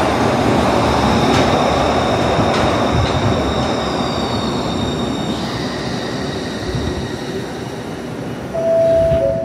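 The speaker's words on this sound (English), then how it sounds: "So I'm going to film this subway train coming in" A Glasgow Subway train runs loud and close in a station, its steady rumble carrying high wheel squeals and whining tones that shift in pitch, easing slightly before a brief surge near the end.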